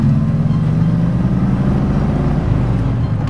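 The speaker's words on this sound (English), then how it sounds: "And of course, it has a V8 engine." A 1972 De Tomaso Pantera with a Ford Cleveland 351 5.8-litre V8 rumbles loudly and steadily up close, a deep throbbing engine note with no voices over it.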